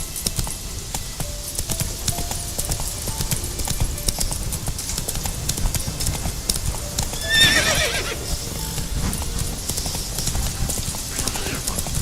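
A horse in The Witcher 3 trotting in a rhythmic, steady clip-clop of hooves, with a brief whinny partway through and game ambience beneath.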